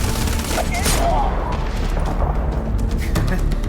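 Rapid SMG gunfire in the space shooter Starfield, a dense, loud crackle of shots running steadily through the whole stretch, with a faint voice in the background.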